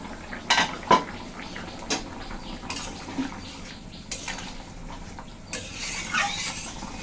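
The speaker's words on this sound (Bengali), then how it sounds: "আবার একটু ঢাকা দিয়ে দিচ্ছি।" A lid going onto a cooking pot of simmering curry, with a couple of close metallic clanks and clinks over soft kitchen noise, followed by lighter scattered clatter.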